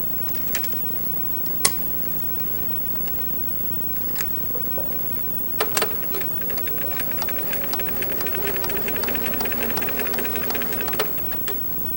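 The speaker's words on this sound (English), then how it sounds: "Now lengthen your stitch length, and this is only going to serve as a basting seam." A home sewing machine runs steadily while stitching a long basting seam at a lengthened stitch, a low continuous whir with scattered sharp clicks and a slight rise in texture toward the end; no one speaks.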